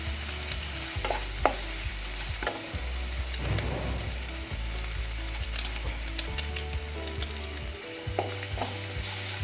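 Maggi noodles mixed with curd and Maggi spice masala being stirred in a sizzling pan for a biryani-style dish: repeated spatula scrapes and knocks over a steady frying hiss, close up and without speech.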